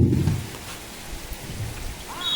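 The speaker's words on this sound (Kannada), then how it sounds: "ಸ್ಲಿಪರಿ ಮಳೆಯ ಕಾರಣದಿಂದಾಗಿ ಚೆಂಡು ಕೈ ಜಾಸ್ತಾ ಇದೆ" Rain falls on an outdoor volleyball court during a 2024 premier league final in Kallamundkur, heard as a soft, continuous patter beneath a low thumping burst at the start and a faint whistle near the end.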